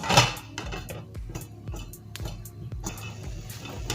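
A metal lid set onto a cooking pot while making Nigerian jollof rice, giving a series of close, sharp clanks and clinks of metal on metal with a few lighter taps.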